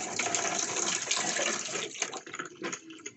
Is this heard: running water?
yes